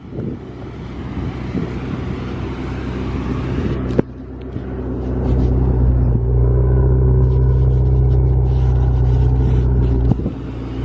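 Steady low engine rumble from a Ferrari, loud and close, rising in level midway and continuing under light road and wind noise, with a brief knock at four seconds and again near ten seconds.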